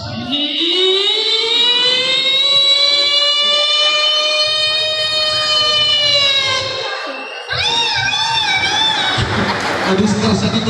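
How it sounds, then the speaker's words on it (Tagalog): An ambulance siren wails loud and close on a street in Quinapondan, Eastern Samar, a long rising-then-steady tone that shifts into a faster warbling pattern near the end, with crowd noise underneath. "Ambulance, guys."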